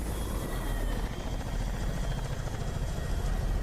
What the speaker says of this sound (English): A squadron of attack helicopters came buzzing out of the Highland skies